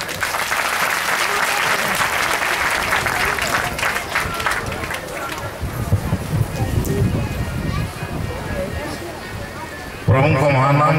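An audience at a Baptist church centenary celebration in Baripada claps loudly for the chief guest. The applause fades into scattered crowd noise before a voice comes in at the end.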